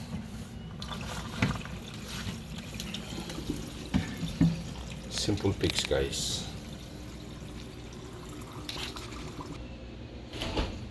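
Water drains from a dishwasher in a constant pouring rush, with clicks and mechanical rattles, while someone talks briefly over it.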